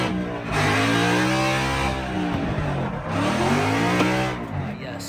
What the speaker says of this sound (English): the sweet sound of my MT82 transmission leaving the race program